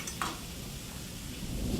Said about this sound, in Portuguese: o bacon continua fritando aqui dentro, soltando a gordura dele